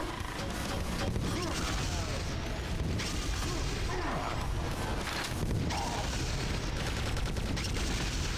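An enemy firing a gun in Quake 2, dense rumbling gunfire and mechanical booms mixed into a continuous loud game soundscape.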